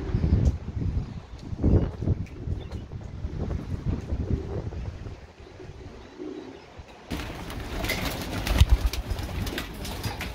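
Pigeons coo in low, repeated murmurs outdoors, with gusty wind buffeting the microphone throughout and a louder, rougher stretch toward the end.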